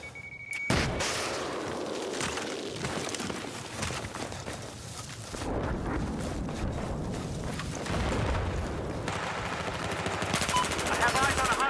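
Sustained video game combat with continuous rapid machine gun fire and dense gunshots, loud and close throughout, with faint voices mixed beneath the shooting.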